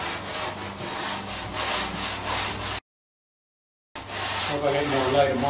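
Hand sanding along the rails of a hand-shaped fish surfboard, a steady rhythmic rasping of rough sandpaper on foam, close and continuous, broken by a short gap of silence.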